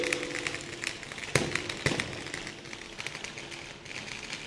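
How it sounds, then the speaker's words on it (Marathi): Firecrackers set off to welcome a political rally crackle in a rapid, uneven string of pops, with a couple of sharper louder bangs, dense and continuous throughout. "शंभूराजेंनी आपल्या स्वागताला फटाके लावले आहेत"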